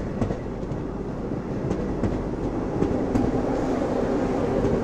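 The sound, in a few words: Visakhapatnam–Secunderabad Vande Bharat train passing slowly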